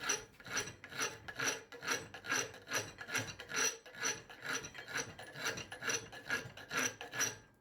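Steady, rhythmic rasping of a hand file smoothing the edges of a forged garden hoe part: about twenty back-and-forth strokes at an even pace, close and clear, with no talking.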